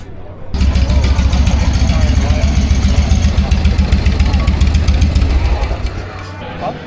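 A motorcycle engine idles with the choke still on, a steady, loud low rumble running for several seconds after a quiet start, with people's voices faintly mixed in around it.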